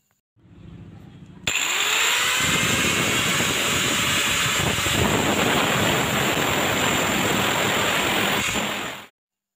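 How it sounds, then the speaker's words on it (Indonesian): An angle grinder cuts through the top of an electrode while making a drill head for a sewing machine motor. It starts abruptly and keeps up a loud, steady, high-pitched whine and grinding roar for about eight seconds before stopping. "Ini akan kita potong juga menggunakan mesin gerinda"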